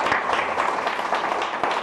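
Applause from a conference audience welcoming a doctor as guest speaker, a dense, steady patter of many hands clapping throughout, fairly loud and close, with no speech over it.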